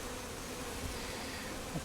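A soft, steady hum of honey bees swarming from a package while being installed into a hive, the buzzing continuous and even throughout, with a couple of faint bumps near the end.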